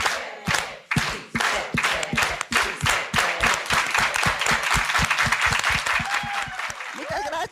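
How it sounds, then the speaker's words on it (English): An audience claps in an organized, steady rhythm, loud and close, with crowd chanting mixed in and a few voices rising near the end. "let's all do it with an organized hand clap"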